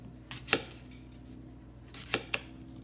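A knife cuts through an apple, quartering it on a board: a few sharp, crisp chops in two brief clusters, close and clear, with quiet room tone in between.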